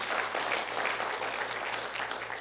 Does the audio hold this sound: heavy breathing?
no